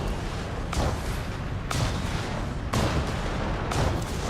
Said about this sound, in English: He hears the fire of that Stuka